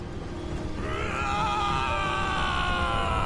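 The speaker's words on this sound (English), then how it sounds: "There's Barrett screaming." Barret from Final Fantasy VII Remake lets out a long, loud, sustained scream that rises and holds steady over dense, continuous game sound.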